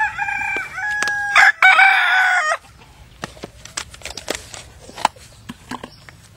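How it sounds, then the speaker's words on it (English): Morning chickens with a rooster giving a loud, close crow lasting a couple of seconds, followed by scattered clucks and soft rustling from the flock. "The chickens are a little bit frisky in the morning."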